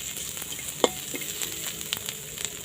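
Shallots, lemongrass and garlic stir-frying in a pan, a steady close sizzle with scattered crackles and a few scraping stirs, with no voices.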